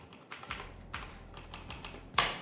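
Quick, light clicking of computer keyboard keys as HTML code is typed, in short uneven bursts with a louder keystroke near the end, close and alone without speech.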